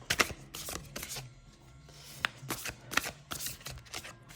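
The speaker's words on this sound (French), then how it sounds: "Ensuite, on va tirer 2 cartes avec le magnifique jeu Oracle" Oracle Connexion Mystique cards being drawn and shuffled, a series of crisp riffling and sliding bursts close by, fairly loud and irregular with brief pauses between, no voices.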